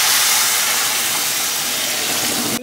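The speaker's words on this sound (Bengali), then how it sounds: "কষিয়ে নিয়ে যে গরম জল বসিয়ে দিয়েছি, গরম জলটাকে দিয়ে দেবো" Hot water poured into a pan of lentils frying with a fish head gives a loud, steady steaming hiss that fills the moment without pause.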